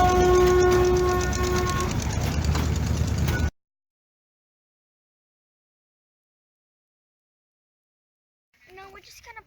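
Toy trains running at the Toy Train Museum in Alamogordo: steady rolling rumble with sustained whistle or horn tones for about three seconds, then silence and faint voices near the end.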